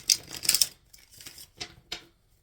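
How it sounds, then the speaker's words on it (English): Tarot cards are shuffled in a few quick, crisp riffling bursts, then softer isolated flicks, close and quiet, with no talking. "I am shuffling for the Libra Collective"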